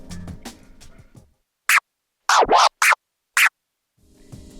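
On a DJ controller, a combo of stab and baby scratches is played: several short, sharp scratch bursts with gaps of silence between them, framed by a little background sound.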